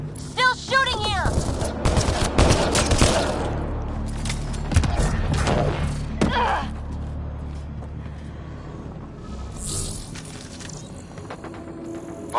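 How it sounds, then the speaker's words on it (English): Rapid bursts of gunfire in the video game Mass Effect Andromeda, loud and dense at first, then thinning into scattered shots under game voices and ambience. "Still shooting here!"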